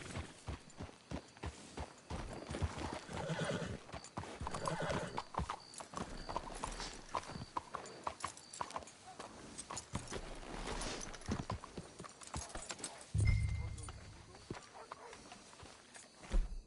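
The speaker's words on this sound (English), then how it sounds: "Let's hitch the horses up ahead." Horses walking with steady clip-clopping hooves, close and continuous, while people talk quietly over them and a short whinny or snort breaks in near the end.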